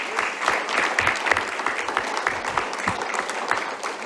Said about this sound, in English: if we can just get another round of applause for everyone